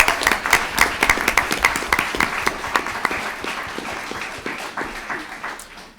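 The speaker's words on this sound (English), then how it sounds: "Let's give them a big round of applause." Applause and clapping from an audience at a school board meeting honouring a state championship Stomp team from Washington, a dense run of sharp claps that stays steady and gradually thins toward the end.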